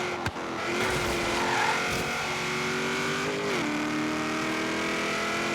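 A racing car engine in the Forza Horizon video game, a sustained droning engine note holding steady with a slight shift in pitch partway, loud and continuous without talk.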